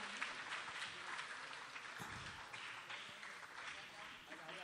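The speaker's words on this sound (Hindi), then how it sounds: "और एक बार जोरदार तालियां इन बच्चों के लिए।" Audience at an elocution competition award ceremony in Ichalkaranji clapping for the children, a dense, even wash of applause heard from a distance, faint and steady throughout.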